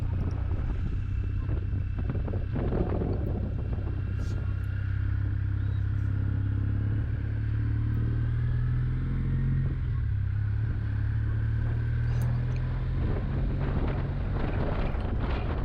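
Motorbikes climbing toward the castle at Castalla, a steady low engine drone running throughout with wind buffeting the microphone, close and continuous with no talking.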